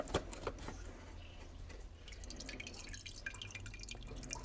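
Excess engine oil draining from the oil filter housing of an Audi A6 C6 with a 3.0 TDI engine, a close, steady trickle and dripping over a few seconds.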